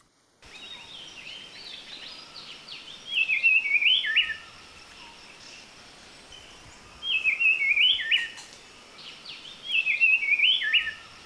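A brown-cheeked fulvetta sings three short bursts of bright, warbling notes separated by pauses, clear against a quiet background, in Kaeng Krachan National Park, Thailand.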